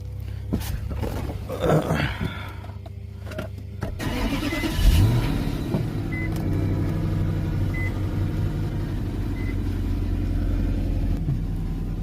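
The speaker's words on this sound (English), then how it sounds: "So right now we're just gonna allow the car to warm up" Infiniti M45 with a VK45DE V8 idles steadily while warming up, a low continuous engine rumble near and constant through the clip, with a brief surge of noise early on.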